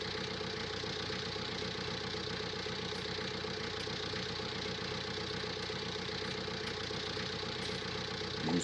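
A tractor engine in Farming Simulator 19 runs at a steady, even drone with a rough, knocking rhythm, sounding constant and unchanging throughout with no talk.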